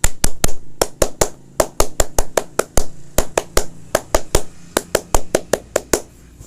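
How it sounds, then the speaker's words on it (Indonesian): A Pramuka scout group claps the rhythmic scout clap twice through, a patterned sequence of sharp, close, loud hand claps with no talking. "2 kali tepuk pramuka."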